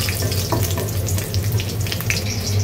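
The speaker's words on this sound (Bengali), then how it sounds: "রসুন আর মরিচ ভেজে নিচ্ছি তেলে" Garlic and chillies frying in hot oil give a steady, close, dense sizzle that holds without a break from start to finish. No one speaks over it.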